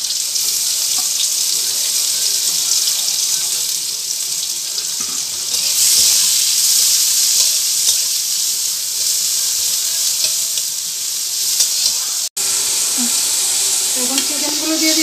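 Onions fry in oil for a chicken momo filling, a loud, continuous bright sizzle throughout, briefly cut off near the end before resuming with some stirring.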